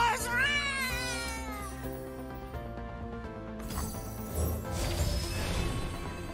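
A drawn-out meow from a cat on a Legends of Runeterra card, rising and wavering at the start, then followed by layered game music and effects with a voice talking underneath.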